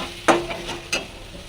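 Spiced curry sautéing in a pan, two quick spatula scrapes over a low steady sizzle, close by.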